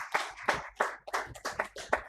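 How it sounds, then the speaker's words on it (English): Sparse, steady hand clapping at an awards ceremony, a few claps per second, fairly faint and with no talking, as the audience applauds the jury members. "A huge round of applause for our jury members."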